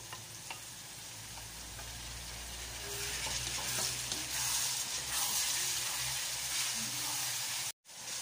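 Onions and tomatoes fry in a pan while making bagoong alamang, a close, steady sizzle with stirring scrapes that grows louder midway before a brief cut near the end.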